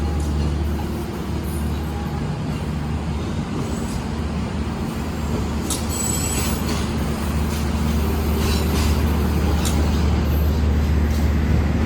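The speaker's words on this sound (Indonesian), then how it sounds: "kereta penumpang terpanjang di lintas selatan untuk saat ini" A steady, loud rumble of a long, fifteen-car passenger train rolling past nearby, with rail clatter and a continuous low roar filling the whole stretch.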